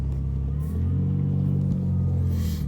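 A Lexus IS300 runs on a drive, a steady low engine rumble with a slight rise in revs, heard from inside the car, fairly quiet and continuous with no talking.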